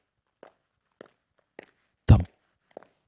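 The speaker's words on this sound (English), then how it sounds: "We hear footsteps." Footsteps from the Steins;Gate video game: several soft, spaced steps, then one louder thump partway through, heard alone in a quiet scene.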